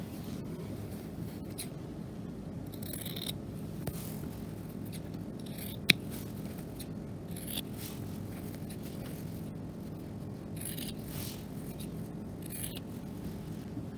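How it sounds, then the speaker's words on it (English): Close, quiet scissors make repeated crisp snips as they trim the corners of a sewn fabric apron diagonally, with irregular cuts spaced through a soft background hush. "So every corner we're just going to cut diagonally to reduce the bulk."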